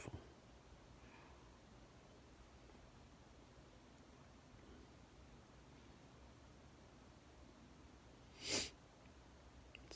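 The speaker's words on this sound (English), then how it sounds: "Sorry for the sniffles." A single short, sharp sniff near the end, breaking an otherwise quiet, hissy room background.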